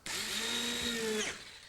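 A power drill whirs steadily for over a second, driving a self-drilling screw into a wall anchor during a renovation demonstration, close and loud with a slight pitch drop as it finishes.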